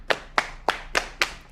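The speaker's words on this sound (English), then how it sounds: "another version of the clap, which is different than the one found close to the pedal hi-hat" Five crisp claps from an Addictive Drums 2 kit sample, evenly spaced and sharp, each with a short bright decay, heard alone and close.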